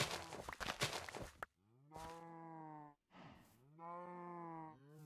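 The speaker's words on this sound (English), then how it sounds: "MJ's cows have mostly been fed apparently." Minecraft cows mooing: two long, drawn-out moos with a brief gap between them, clear and close, after a burst of noisy shuffling at the start, no talking.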